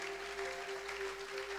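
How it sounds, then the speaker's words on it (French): Steady applause from a church congregation at an Easter service, a continuous patter of clapping heard at a moderate distance with a faint tonal hum underneath. "Ça mérite des acclamations, bien aimé."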